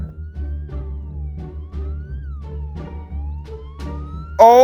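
Police car siren in the Roblox video game, a loud wailing tone rising and falling repeatedly over a low rumbling game background, ending in a sharper burst.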